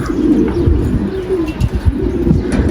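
Pigeons near a roof coo softly and shuffle about close by, a steady low murmuring with no talking.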